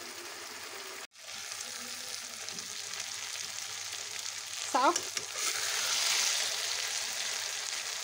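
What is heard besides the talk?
pickle mixture frying in a pan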